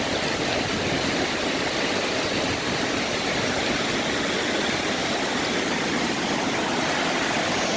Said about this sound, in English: that is a ton of water moving